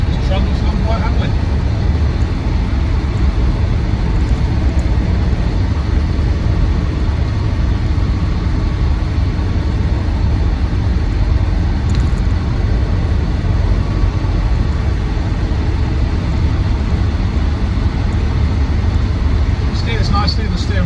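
A Land Rover Defender 90 TD5 county hardtop drives along with its diesel engine running, a steady, dense rumble of engine and road noise held at an even level throughout.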